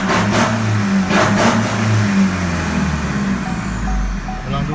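A remapped 2019 Chevrolet engine revs hard in repeated loud surges close by, rising and falling throughout with no talk over it.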